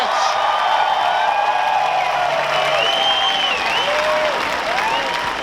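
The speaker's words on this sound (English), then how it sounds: "Give yourself a big round of applause," Large festival crowd at EXIT Festival in Serbia applauding and cheering after a motivational speech, a dense continuous roar of clapping with whistles and shouts throughout, loud and steady.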